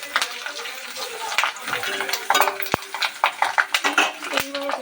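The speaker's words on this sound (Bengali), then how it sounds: "এই তেলের মধ্যেই আমরা দিয়ে দিচ্ছি কালো জিরে ফোড়ন" Black cumin seeds, dried red chillies and turmeric sizzle and spit in hot oil for mustard hilsa, with steady close frying crackle broken by sharp clinks of a utensil against the pan and bowls.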